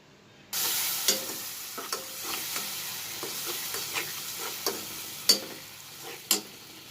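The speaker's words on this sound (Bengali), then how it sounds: "দিয়ে এবার ভালো করে নাড়াচাড়া দিতে হবে। তো আমি একটু কষিয়ে নিচ্ছি ভালো করে।" Onion and spices for hotel-style chicken curry sizzle loudly in a pan, with a steady close frying hiss broken by repeated scraping stirs of a spoon.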